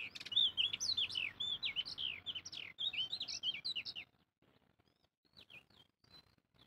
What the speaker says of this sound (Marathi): हे बघा, खारुताईची पिल्ले.